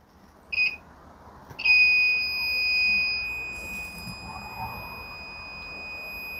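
Continuity test beeps from a multimeter probing blue wires on a Super General washer with an F8 error: a short steady tone near 0.6 s, then a longer sustained beep from about 1.6 s to the end.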